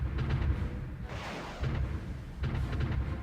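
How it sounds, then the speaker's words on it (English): Heavy artillery shelling in the Supreme Ruler Ultimate strategy war game rumbles in repeated low booms, several dull blasts arriving in loose succession at moderate, slightly distant loudness. "They're bombarding a lot."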